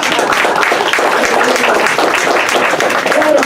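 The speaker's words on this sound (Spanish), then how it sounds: "mamá aplaudiendo, ayúdenla, por favor" A church congregation claps and applauds steadily and fairly loudly throughout, a dense wash of hands with no pauses.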